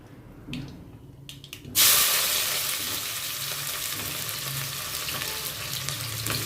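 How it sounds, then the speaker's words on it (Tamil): Onions dropped into hot oil in a pan set off a sudden loud sizzle partway through, after a few quiet clinks, then a steady, crackling fry that carries on to the end. "எண்ணெய் காஞ்ச உடனே அது பொரிஞ்ச உடனே வெங்காயம் போட்டுருணுங்க"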